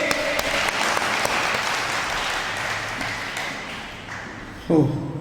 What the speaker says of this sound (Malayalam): ഒന്ന് കൈയടിച്ച് പാസാക്കിയേ